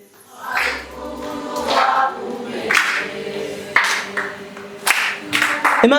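Congregation at a church service in Bujumbura clapping hands in rhythm, bursts of claps recurring through a loud, reverberant hall with singing voices underneath.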